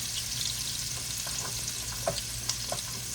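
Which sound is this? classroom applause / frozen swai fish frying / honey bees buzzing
frozen swai fish frying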